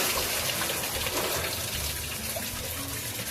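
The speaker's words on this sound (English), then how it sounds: "I already filled up with a bucket of rainwater, and let's do this." A bucket of rainwater gushes and splashes as it is poured over a person outdoors in the rain, a fairly quiet, continuous watery rush.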